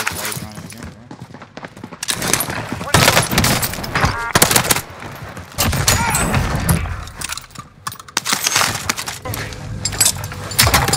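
Call of Duty gunfire comes in dense, loud automatic bursts and repeated shots, with brief pauses between them. A player's voice talks over and between the shooting.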